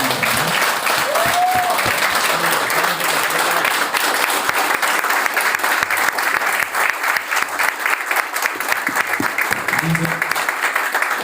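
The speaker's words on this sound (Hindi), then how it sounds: "एक बार सर के लिए जोरदार क्लैपिंग" A live audience at a speech event in Ahmedabad bursts into loud, sustained applause, dense clapping that holds steady throughout with no one speaking over it.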